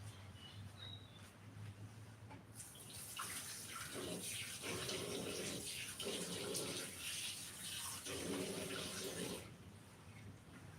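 Running tap water pours steadily into a sink while hands are washed under it, a fairly close, continuous splashing rush with slight surges and a quieter room before and after, in a home kitchen during oven baking of dal baati.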